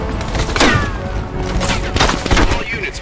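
An MSG gun fires in Call of Duty Cold War, a loud, rapid run of shots layered over other in-game gunfire and thuds, close and continuous for a few seconds.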